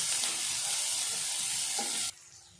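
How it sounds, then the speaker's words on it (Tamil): Cumin seeds frying in hot oil for a ridge gourd dish, a loud, close, continuous sizzle and crackle that cuts off abruptly near the end. "எண்ணெயிலே நல்லா பொரியட்டும் நல்லா சீரகம்லாம் பொறிஞ்சிருச்சு"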